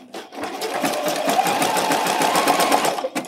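Domestic sewing machine running steadily for a few seconds as it stitches a bralette strap, a close, continuous whirring hum with a rapid rhythmic needle chatter, starting and stopping abruptly.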